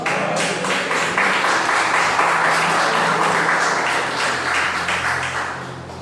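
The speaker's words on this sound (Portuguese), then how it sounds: "Aplauda o Senhor por isso." A church congregation applauds during a sermon, a dense, steady wash of clapping that holds at a fairly even loudness for about six seconds before easing slightly at the end.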